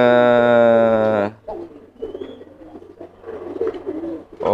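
Pigeon cooing close by, a loud resonant coo that fades into softer muffled grumbling coos from a bird that is not sitting on its eggs, with no talking.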